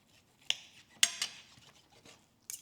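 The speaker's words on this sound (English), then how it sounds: "We can even cut it with a butter knife." A butter knife scrapes and taps against a plate while slicing through a cranberry-stuffed pork chop, giving a few sharp, close metallic clicks and short scrapes separated by quiet gaps.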